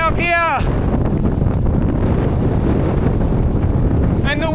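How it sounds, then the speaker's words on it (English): Strong wind on a high fell in the Lake District buffets the microphone with a constant loud, low rumble, and a voice is briefly heard at the start and end. "and the wind is back."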